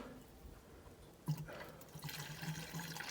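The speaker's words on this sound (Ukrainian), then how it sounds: "Так, заливаємо гарячу водичку." Hot water poured into a tractor's radiator outdoors at about minus five degrees, heard as a steady splashing pour that swells and thickens partway through, close by with no talking.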